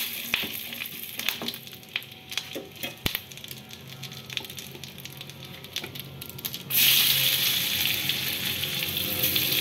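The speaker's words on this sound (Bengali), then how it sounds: "এবার এর মধ্যে একটু তেজপাতা দিই।" Bay leaf dropped into hot oil while cooking an egg curry: quiet kitchen clatter and light frying, then a sudden loud, steady sizzle surges up and holds to the end.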